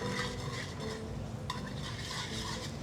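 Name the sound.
stirring pasta with pecorino cheese in pan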